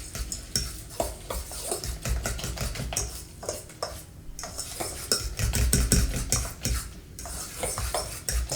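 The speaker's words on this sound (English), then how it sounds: "So I'll put oats in, and then milled linseed as well, and then mix all that up together." A utensil stirs a thick pancake batter of banana, oats and milled linseed in a bowl, making steady close scraping and clinking strokes in an uneven rhythm, with no talking.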